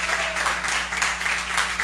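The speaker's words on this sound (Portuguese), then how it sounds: "Dê um aplauso ao Senhor, irmão." A church congregation claps together in a dense, steady burst of applause, close and loud, with no speech over it.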